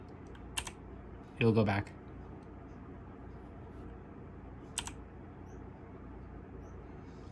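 Two sharp, isolated key presses on a Swordbill RGB mechanical gaming keyboard, close and crisp, several seconds apart, with a brief spoken phrase between them.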